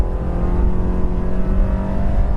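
A 2014 Volkswagen Tiguan 4Motion runs at full throttle on a test track, its engine droning loud and close with a steady rising tone under sustained acceleration and no talk.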